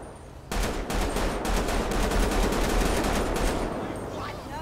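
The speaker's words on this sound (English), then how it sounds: "More shots fired." Rapid bursts of gunfire crackle in quick succession, loud and dense, like sustained automatic shooting in a GTA-based roleplay game.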